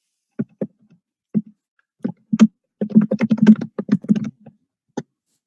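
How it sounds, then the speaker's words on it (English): A loud computer keyboard clacks close up in irregular bursts, starting with scattered single keystrokes and building into a rapid run of typing before a final lone click. "I didn't know my keyboard was that loud."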